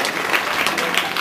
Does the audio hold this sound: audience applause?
yes